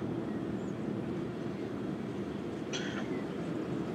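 A tram runs along its track in the EEP railway simulator, giving a steady, continuous low rolling rumble with faint rail noise and a brief higher squeal partway through.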